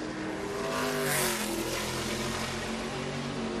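A race truck engine screams at speed around the track during practice for the Clean Harbors 250, a loud, sustained roar that swells briefly as it passes close, then holds steady.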